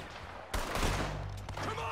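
Gunfire from a Red Dead Redemption II shootout cracks out in a sudden burst, followed by a dense spell of shots and echoing reports amid a low game soundscape.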